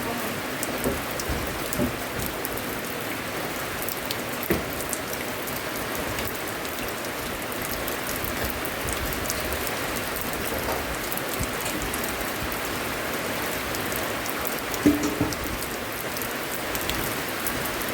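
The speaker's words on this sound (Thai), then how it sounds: "บรรยากาศฝนตก" Morning rain falls steadily, a dense even hiss of drops on surfaces that holds for the whole stretch with only slight swells and no voices above it.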